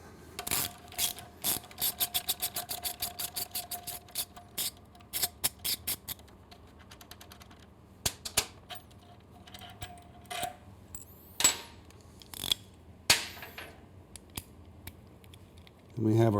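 A 12mm socket on a ratchet wrench loosens the muffler bolt on a Triumph Street motorcycle. It gives fast, close clicking ratchet bursts with short pauses between them, and no voice is heard.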